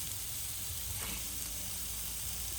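Steady broadband sizzle of pork frying on a hot grill pan, a constant crackling hiss with no voices.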